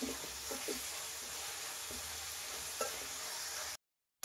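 Onions and dried chillies fry in a pan for a village-style jackfruit bassaru, giving a soft, steady sizzle with faint stirring taps before it abruptly stops.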